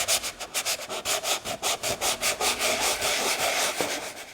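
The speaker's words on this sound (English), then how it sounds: "We want a fairly rough surface here, so I'm going to use 80 grit sandpaper." The surface of a 1/100 scale Estes Saturn V model rocket is sanded with 80 grit sandpaper in quick, regular back-and-forth rasping strokes, about a dozen close and even, with no talking.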